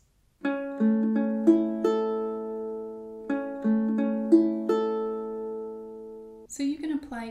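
A ukulele plays a fingerpicking pattern at a faster tempo, with clear plucked notes ringing close and alone, repeating in an even rhythm before a brief voice begins at the end.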